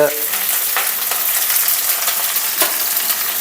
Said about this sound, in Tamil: அது எண்ணெயிலேயே பொரியுது